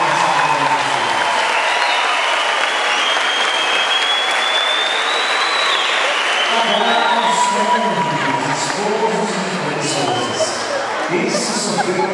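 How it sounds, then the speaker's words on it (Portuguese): Parents in a graduation ceremony audience break into loud, sustained applause, with some cheering and crowd chatter mixed in, while a voice speaks briefly over the clapping in the latter half. "uma salva de palmas, por favor."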